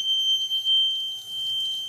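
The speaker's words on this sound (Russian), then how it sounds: "звучит тревожный сигнал" An Arduino-based water leak protection prototype sounds its alarm: a continuous high-pitched electronic buzzer tone, piercing and steady, with faint background hum and no speech.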